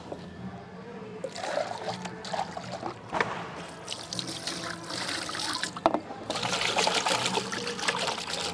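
Water is poured and splashed steadily while a homemade fish tank is washed out, a close, continuous trickling and splashing with louder gushes toward the end.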